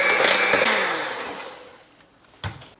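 An electric hand mixer beats an egg and a teaspoon of vanilla into cake batter for a pineapple upside-down cake, a loud steady whir that slowly fades and stops, followed by a short clunk.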